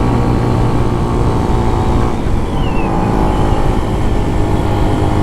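A small 125cc motorcycle engine drones loudly and continuously while riding on a Florida road, with steady revving and close wind rush throughout.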